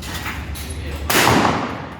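A shotgun fires once at an indoor skeet range, a sharp, loud blast that rings through the enclosed space after a steady background hum.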